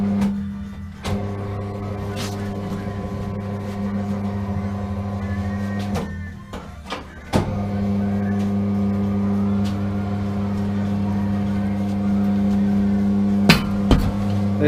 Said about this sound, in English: Just use your arm on your tyre machine.